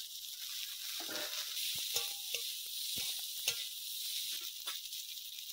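Small fish and vegetable stalks with potatoes frying in a pan: a soft, steady hiss of sizzling oil with a few sharp clinks and scrapes of stirring, quiet and close.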